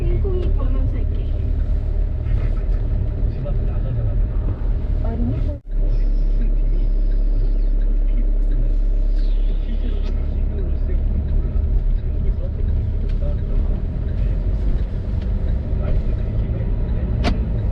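Street traffic in Korea, with cars rumbling past in a steady wash, one passing vehicle swelling louder before fading, and people talking over the noise.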